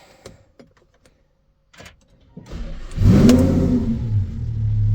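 A few faint clicks and a short whir, then a Lamborghini Huracan engine with catalytic converters removed fires up in Corsa mode and revs hard, growling loudly and close before settling into a steady rumble.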